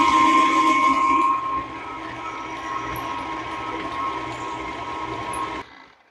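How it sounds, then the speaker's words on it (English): A stand mixer churns cake batter on low speed, a steady continuous motor whir with a constant hum that runs unbroken before cutting off near the end. "it says that we're going to be leaving the mixer on low speed"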